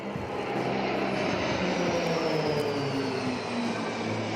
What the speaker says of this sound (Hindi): हजारों फीट की ऊंचाई पर इजरायली एयरफोर्स के विमान ऐसे करतब करते दिखे कि कोई भी दांतों तले उंगली दबा ले